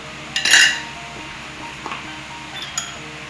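Banana cake batter being mixed in a bowl, a clattering scrape of utensil against the bowl followed by a few lighter clinks and taps, close by and without speech.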